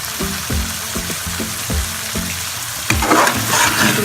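Boneless chicken pieces for chicken handi fry in a pan, giving a steady loud sizzle, with repeated scraping stir strokes in a regular rhythm through the first three seconds and a brighter, louder surge of sizzling near the end.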